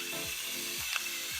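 A pepper mill cranks pepper over salmon with three quick, soft ratcheting grinds, close by but faint against a steady background hiss.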